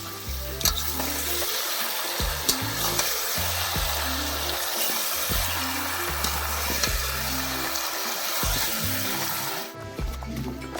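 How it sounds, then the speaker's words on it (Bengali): Mutton curry in a pan, a picnic cookout dish with meat and papaya, seethes with a steady close bubbling sizzle and occasional stirring scrapes, continuous throughout with no talk. "মাংস এখন ফুটছে, সিদ্ধ হওয়া যদিও এখনো বাকি আছে"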